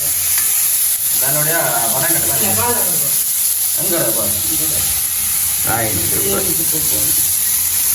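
Dried fish fries in a pan for a Jaffna-style greens, fish and dried-fish curry, a loud continuous sizzle with stirring running under someone speaking in Tamil throughout.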